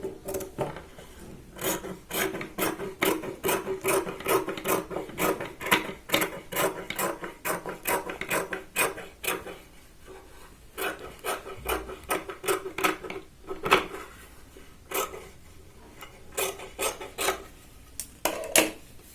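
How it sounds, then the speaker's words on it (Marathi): Scissors cut through extra blouse fabric for a katori blouse, giving a rapid series of crisp snipping strokes in bursts, with short pauses between runs. "एक्स्ट्रा जो कापड आहे त्याची आपण पूर्ण कटिंग करून घेऊया"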